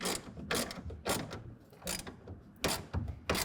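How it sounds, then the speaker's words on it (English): A ratchet tightens a bracket for a RealTruck UnderCover Flex hard folding tonneau cover on a 2024 GM truck. Short bursts of close, crisp clicking repeat about seven times in an uneven rhythm. "Hold that in place and tighten it down."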